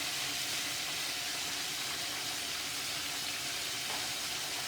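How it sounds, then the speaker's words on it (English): Butter melting in a pan for honey hot wings, a soft, even hiss of sizzling that holds steady throughout, fairly quiet and alone. "Alright, so the butter is melting."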